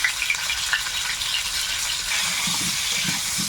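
Potatoes frying with salt in hot oil in a wok, a steady close sizzle and crackle that runs unbroken throughout, with no talking.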